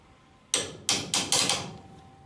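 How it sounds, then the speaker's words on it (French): Hammer blows on seized bolts holding the torsion bars to the suspension arms of a Citroën Traction 11B front end, five loud metallic strikes in an uneven rhythm, close and alone. "Je débloque les boulons qui fixent les barres de torsion sur les bras."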